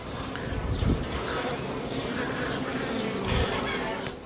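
A steady buzz of honey bees hanging at a hive before swarming hums throughout, close by, with a soft low rumble underneath.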